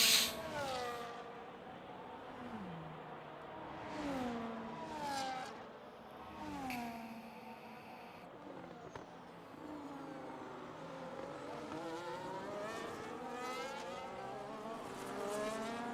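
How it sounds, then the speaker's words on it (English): Formula 1 cars in the F1 25 racing game howl at the Las Vegas circuit, several engines rising and falling in pitch as they weave and pass, a steady layered whine of revving motors with no talk. "Cars all weaving now."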